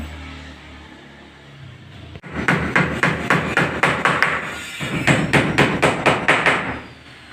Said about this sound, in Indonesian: jadi seperti itulah cara memaku papan GRC